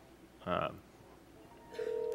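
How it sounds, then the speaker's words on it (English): A phone call launched from a BroadWorks-integrated Microsoft hosted communications system, with a short tone burst, a quiet pause, then a steady electronic tone beginning, all faint. "let's go ahead and launch a phone call"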